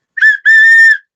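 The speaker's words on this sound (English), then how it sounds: "I even have my football whistle" A football whistle blown twice close up, a short shrill blast followed by a longer sustained one, loud and alone with no other sound.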